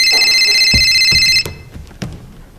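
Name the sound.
telephone ringing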